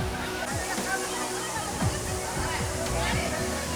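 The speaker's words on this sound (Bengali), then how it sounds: "বন্ধুরা এই মুহূর্তে কিন্তু একদম আমি ঝর্ণার সামনে রয়েছি" Water of Moti Jharna waterfall in Jharkhand pours steadily from above, a loud continuous rushing close by, with a voice talking over it.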